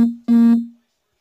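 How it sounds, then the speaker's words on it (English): A short two-part electronic notification beep, steady tonal pitch, loud and close, ending in a brief fade with no talk. "Just got a notification."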